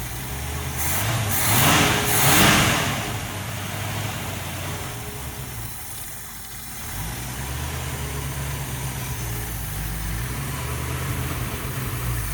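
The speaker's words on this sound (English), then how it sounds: "She's running really good now. Idling is pretty good." A 1965 Ford Mustang engine with a freshly tuned carburetor idles steadily nearby, a low even rumble with a slight chug and a brief swell early on.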